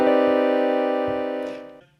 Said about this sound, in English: This James Bond chord is the major minor 9.